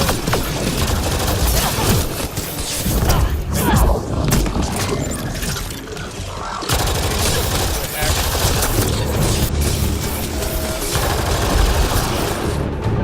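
Sustained gunfire and crashing impacts from the sci-fi shooter Mass Effect Andromeda during a firefight, loud bursts and booms overlapping throughout, with a person talking over the barrage.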